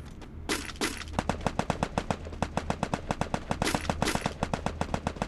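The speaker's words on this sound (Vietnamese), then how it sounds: "Bắn nhau ghê vậy." Rapid gunfire in the battle-royale video game Garena Free Fire: dense automatic bursts with sharp, evenly spaced shots, fairly close and loud, with no talk over them.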